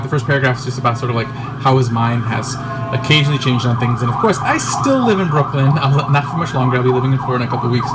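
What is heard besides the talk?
emergency vehicle sirens outside in Brooklyn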